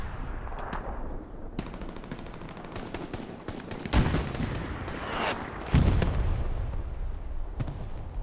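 Rapid gunfire and booming artillery from a D-Day video game, with dense overlapping shots, sharp bursts and two heavier blasts standing out amid constant battle noise, no talk heard.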